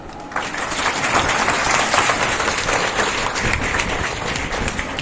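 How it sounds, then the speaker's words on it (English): Audience applause at an indoor value education session, a dense continuous clapping from a crowd that swells quickly and holds steady for several seconds. "I would like all of you to give a round of applause for ma'am"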